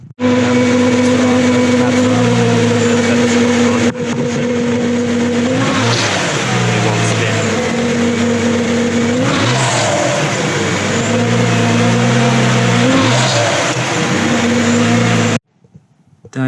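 A BMW 335i with the N54 engine runs steadily at idle, its belt pulleys adding a faint whine and chatter beneath a loud, constant engine hum, with a couple of brief revs before it cuts out near the end.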